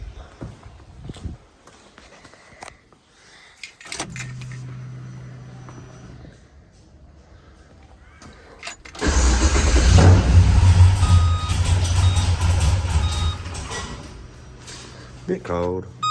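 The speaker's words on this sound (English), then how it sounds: "Start it up and see if it's happy with that." An HQ Holden engine is cranked and fires up partway through, a loud burst of mechanical roar that settles into a rough, steady idle, with quieter handling noises and movement beforehand.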